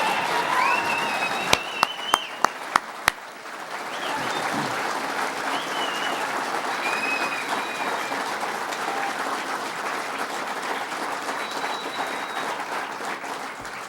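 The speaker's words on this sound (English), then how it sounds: "Let's give her another round of applause." An audience at a public event on repowering the Dunkirk Power Plant claps for State Senator Kathy Young in sustained, steady applause that lasts throughout, with a few sharp clicks near the start.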